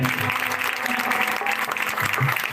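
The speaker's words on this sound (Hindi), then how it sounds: "जोरदार तालियां बजाएंगे।" A worship congregation breaks into loud applause, a brief burst of many hands clapping close by for a couple of seconds, with a low hum underneath.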